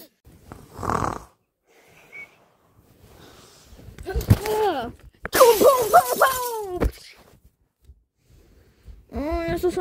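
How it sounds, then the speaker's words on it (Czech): Glass breaks with a bright crashing shatter in a room during a game among children, surrounded by excited, strained voices and shouting before and after the break. "mě se rozbilo sklo"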